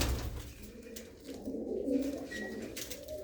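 Pigeons coo softly in a loft, low rolling calls overlapping in a close, gentle murmur.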